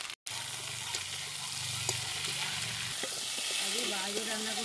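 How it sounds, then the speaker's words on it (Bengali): Pieces of yam sizzle steadily in hot oil in a pan, with spatula stirring and scraping on and off, cooked outdoors; a fairly loud, continuous frying hiss with no talk. "আলুটা আমার ভালো করে ভাজা হয়ে গেছে"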